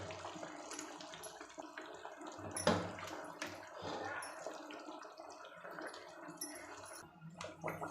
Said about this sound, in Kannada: ಈಗ ಸಾಂಬಾರು ಕುದೀತಾ ಇದೆ